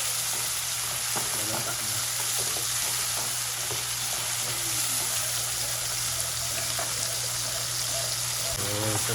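Chopped tomatoes sizzle and crackle steadily in a pan on a stove after the onions, a close, constant hiss with occasional stirring scrapes while someone speaks briefly.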